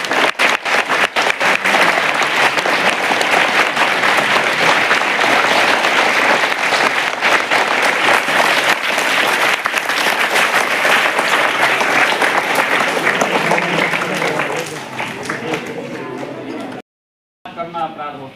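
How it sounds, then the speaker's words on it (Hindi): Audience at a school magic show claps loudly and steadily for about seventeen seconds, a dense wall of applause that stops abruptly near the end. "अब आप केवल 15 सेकंड ताली बजाएंगे"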